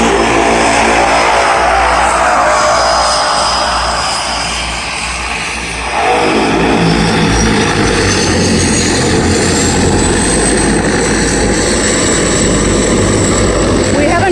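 Loud droning propeller engine of a seaplane close by, briefly dipping then surging again as it powers up, steady and roaring throughout.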